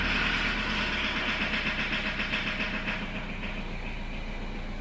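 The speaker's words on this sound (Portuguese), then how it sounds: "eu quero que vocês escutem o craquelado desse motor" A Chevrolet Tracker engine suffering heavy black smoke and power loss cranks and runs steadily with a rough, crackling, uneven idle, loud and close, with no talking.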